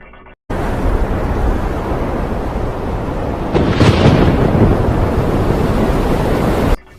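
Stormy sea with strong winds, high waves and torrential rain: a dense, steady roar of wind and surf that swells into a louder crashing burst midway, then cuts off abruptly.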